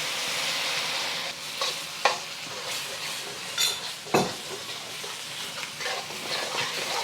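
Sauce poured into a hot pan sizzles and hisses steadily while a utensil stirs and scrapes the bottom, giving a few sharp clinks and scraping bursts over the continuous frying.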